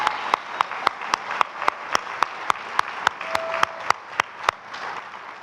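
One person claps in a steady, evenly spaced rhythm, about a dozen sharp close claps over a bed of softer crowd applause at a breakfast event.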